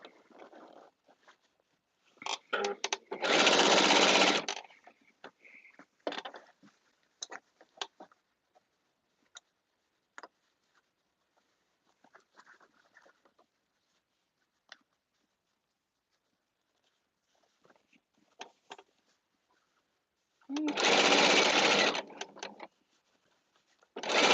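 A sewing machine stitches gathers on a caftan in two loud, dense bursts of rapid whirring, separated by a long quiet stretch of small taps and handling clicks.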